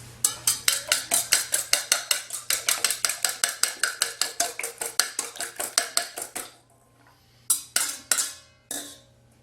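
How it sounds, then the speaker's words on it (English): Five beaten eggs are worked into flour and baking powder for Skiathos hamalia dough, making fast rhythmic clinks of a utensil against a bowl, about thirty close strokes, then a pause and a few final scrapes. "And then I'm going to add 5 beaten eggs."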